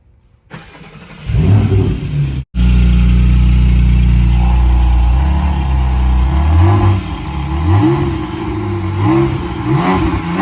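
A 2020 Porsche Cayman GT4 with remote-valve exhaust, valves closed, cranks and fires up loudly, settles into a deep idle, then gives several rising and falling revs close by.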